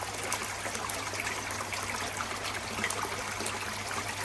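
A cheap 8,000 litre-per-hour variable pump running at full power, sending a constant, even trickle and splash of water over a low steady hum, close and fairly quiet.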